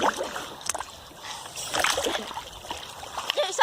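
Splashing and sloshing water from people swimming in a river, a steady wash of irregular splashes, close, with voices mixed in.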